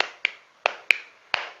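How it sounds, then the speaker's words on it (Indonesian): Four sharp, crisp hand claps from a clapping game during children's storytelling ring out at uneven intervals. They are close and clear with short ringing tails, and no talk is heard. "Tepuk 1 kali."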